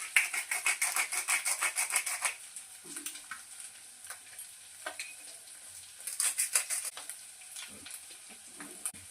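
Noodles frying with pepper in a pan, a soft sizzle under rhythmic stirring scrapes that come in quick regular strokes at first, then scattered, fairly close but quiet.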